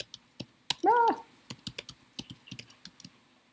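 Computer keyboard typed on in a lecture room, irregular crisp key clicks close by, with a brief vocal sound near the start.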